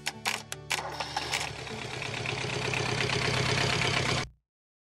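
Sailboat's inboard engine being started with a screwdriver bridging the starter instead of the start button: a few sharp clicks and cranking bursts, then a steady close chugging idle that cuts off abruptly.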